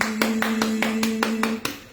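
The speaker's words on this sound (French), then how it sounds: "On applaudit." Seven sharp hand claps ring out at a steady, slightly uneven rhythm, close and fairly loud, over a steady tonal hum from a live stream setting.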